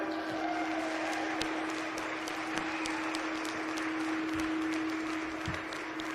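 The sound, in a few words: applause for the hog show superintendents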